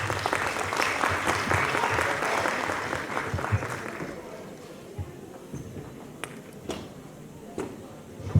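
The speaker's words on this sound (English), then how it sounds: "Let's have a huge round of applause for them" Loud applause from a crowd at a dental college event fills the first four seconds, then thins into scattered claps and a few sharp knocks as it fades.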